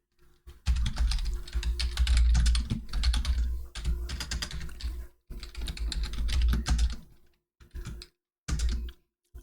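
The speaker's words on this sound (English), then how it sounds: "let me type that in" Fast, steady typing on a computer keyboard, dense bursts of close clicking keystrokes broken by short pauses, no voices.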